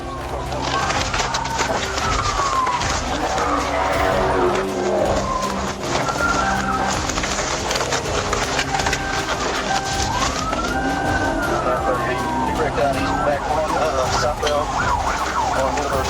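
A speeding Dodge Charger chased by police through city streets: continuous loud engine roar, tire squeals and wailing sirens, busy and dense throughout, with a voice talking over it.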